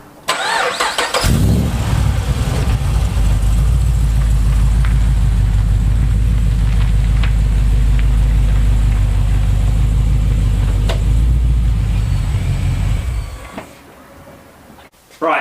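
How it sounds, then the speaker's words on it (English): Car engine cranking and starting, then running loudly and close at a steady idle-to-low rev for about twelve seconds before shutting off into quiet. "We'll pull the car into the shade and let's get started"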